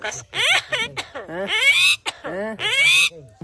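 A pet myna bird imitates a human cough in a run of close, loud, raspy bursts with whistling, sliding tones, separated by brief pauses.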